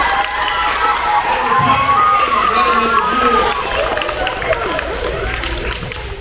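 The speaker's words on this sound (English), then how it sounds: "Can you clap it up for me" Elementary school children in an assembly clap and cheer as a sustained wash of crowd applause and noise that fills the room, with a speaker's voice faintly under it.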